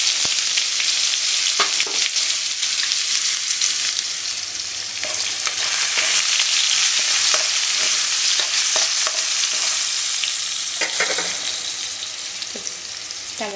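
Onions sizzle loudly in hot oil for a bendakaya (okra) curry, a continuous close hiss of frying broken by scrapes and knocks of stirring, with no voices.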